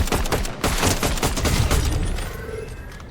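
Gunfire in Fortnite, a rapid fusillade of shots in dense bursts for about two seconds, then fading into quieter game ambience.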